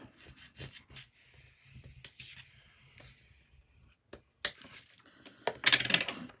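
Paper rubbed and smoothed flat onto a journal cover, soft brushing and scuffing strokes with occasional taps, building to louder crisp rustling near the end, close and quiet.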